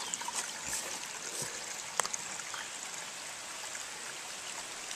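A brook running after Tropical Storm Irene in southern Vermont, its water giving a steady broadband rush and trickle close by, with a few faint knocks over the flow and no voices.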